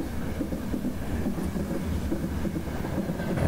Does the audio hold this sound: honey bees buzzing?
no